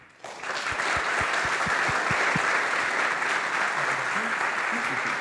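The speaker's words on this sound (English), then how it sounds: "please give a big applause to Tiberio Fanti and Luca Lingardo from NXP" Audience applause for the NXP Austria presenters at a corporate presentation, starting with a few distinct claps and swelling into steady sustained clapping from a seated crowd.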